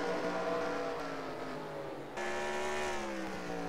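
Race car engines drone steadily at the Arizona State Fairgrounds during an SCRL Grand National Series race, a sustained loud roar with shifting engine pitch as cars battle for position, a brief dip near the middle before the roar swells back.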